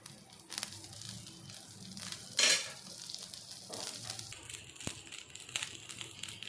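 Dosa batter frying in a light film of oil on a pan, giving a steady soft sizzle with a few brief scraping or crackling bursts, heard close and alone without talk.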